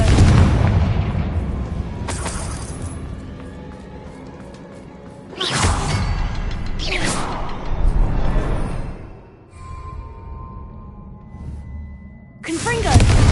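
Fiery blasting-curse explosions from Confringo spells in the video game Hogwarts Legacy: several loud booming bursts arrive at irregular intervals over a rumbling game backdrop, with a final blast at the end.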